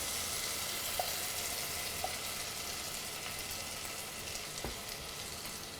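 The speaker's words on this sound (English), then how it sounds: "A nice sizzle." Tomatoes sizzle steadily in a hot pan for tomato sauce, a dense continuous frying hiss with a few faint clicks of a spatula, no voices.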